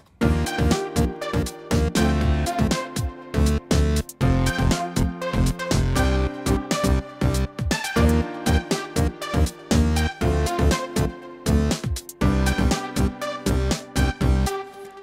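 A piano arrangement plays with a full band, a steady drum beat punching through the chords at a lively tempo.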